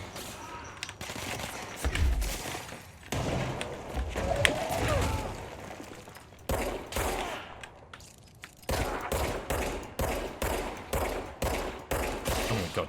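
Repeated gunfire in the video game Control, delivered in rapid, evenly spaced bursts and sharp cracks, loudest toward the end as a steady run of shots, with busy background action between volleys.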